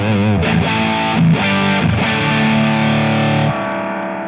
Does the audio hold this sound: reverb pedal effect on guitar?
yes